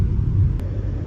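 A car drives and slips on a snowy road in Afghanistan, a steady low engine and tyre rumble running close and continuous through the short moment.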